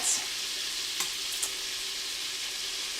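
Diced onions and celery sizzle steadily in a hot pan, a constant bright frying hiss with a couple of light stirring clicks, close by and with no talk over it.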